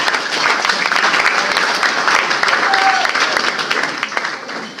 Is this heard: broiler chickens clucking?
no